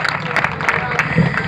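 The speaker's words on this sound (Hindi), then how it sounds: "एक बार जोरदार तालियां" Audience clapping at a Hindi kavi sammelan poetry gathering in Nainod village: a short, dense patter of many hands, with voices mixed in.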